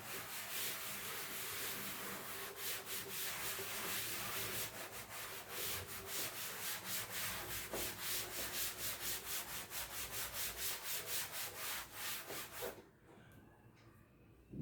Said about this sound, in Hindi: तो अभी इसको रब कर देते हैं।